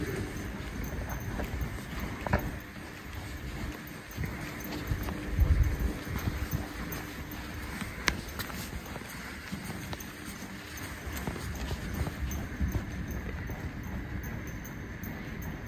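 A horse's hooves clip-clop steadily over ground poles in a riding arena, an even rhythmic beat at moderate distance over a constant background hiss.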